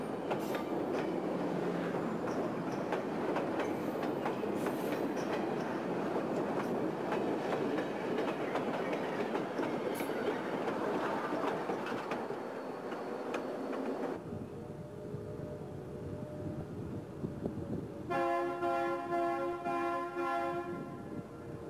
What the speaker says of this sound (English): the classic F units led the train across the lift bridge over the Intracoastal Waterway